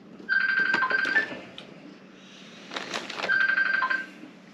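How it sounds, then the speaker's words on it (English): A mobile phone ringtone sounds in two short melodic bursts separated by a pause, fairly close and clear against a quiet background. "My phone is ringing."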